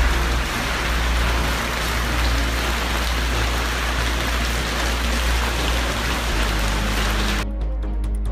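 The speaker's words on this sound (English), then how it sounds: "Heavy rains are causing havoc in central and southern Chile" Heavy rain pours in Santiago, Chile, a dense, steady roar of water hitting surfaces that continues unbroken and close, then cuts off abruptly near the end.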